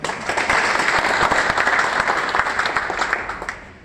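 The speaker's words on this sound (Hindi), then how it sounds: "इतनी कम तालियां बजाएंगे, एक बार जोर से बता दीजिए।" A live audience at a motivational training program breaks into loud, sustained applause, dense clapping filling the whole stretch before tapering off slightly at the end.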